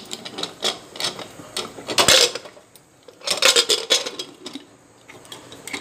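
A pressure cooker set down on a gas stove while cooking horse gram dal, giving a few sharp metallic clatters and clinks up close amid small kitchen knocks.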